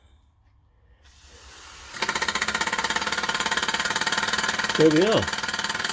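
A Mamod Minor steam engine runs on compressed air, a faint hiss swelling then settling into a steady rapid chuffing beat that continues to the end, with a voice briefly speaking over it.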